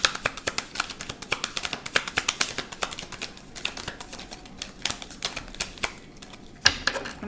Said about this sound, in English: I'm going to shuffle because those were going everywhere.